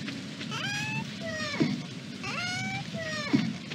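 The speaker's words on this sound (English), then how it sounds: "It is raining out." Steady rain hiss in the Stardew Valley farm game, soft and continuous, with a low rumble and repeated rising musical tones from the game's soundtrack layered over it.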